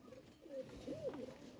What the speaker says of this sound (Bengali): এই যে কবুতর দুই করে আছে